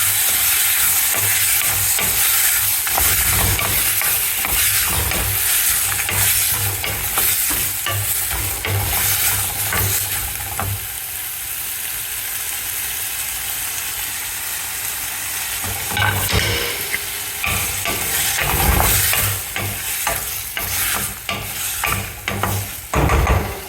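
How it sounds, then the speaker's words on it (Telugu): Tomatoes fry in oil in a pan for a basil chutney, giving a steady close sizzle. A spoon scrapes and stirs in repeated bursts, and the sizzle rises and falls with each stir. "టొమాటోస్ వేగాక అవి మగ్గేంత వరకు కొంచెం మంచిగా ఆయిల్లో"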